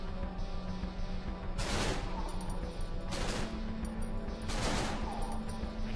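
Three loud gunshots crack in the horror video game Cry of Fear, spaced about a second and a half apart over a steady low droning background, with no talking.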